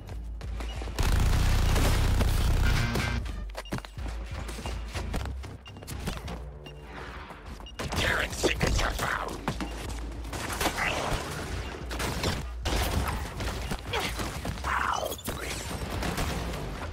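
Sustained suppressing gunfire in Suicide Squad Kill the Justice League, with a heavy, loud burst of rapid shots near the start, then continuing dense battle noise and scattered effects for the rest of the stretch.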